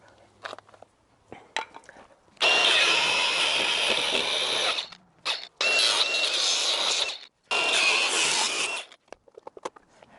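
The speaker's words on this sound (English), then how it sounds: "So let's go and get the grinder." A grinder cuts a seam on an Alfa Romeo Giulietta car body, two long, loud, close bursts of harsh metal grinding separated by a short pause, with lighter clanks and handling noises around them.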